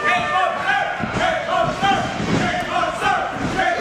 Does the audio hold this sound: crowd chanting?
yes